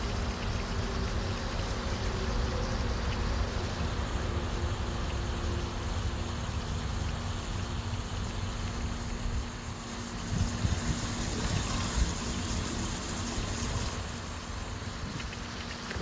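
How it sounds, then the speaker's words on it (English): A pool pump with a DE filter runs steadily while water rushes out of the end of a hose, a loud, constant broadband whoosh and hum with no pauses. "Then we're going to turn the pump on."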